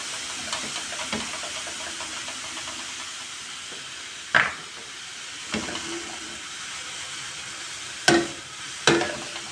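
Leeks sizzle steadily in a hot pan, with a few sharp clatters of a utensil stirring and scraping.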